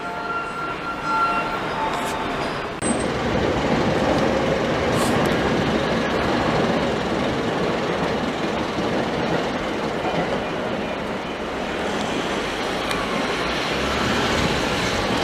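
A Tokyo Metro Tozai Line train at Nishi-Funabashi station rumbles steadily, with rolling wheel clatter and a brief announcement voice over the constant train noise.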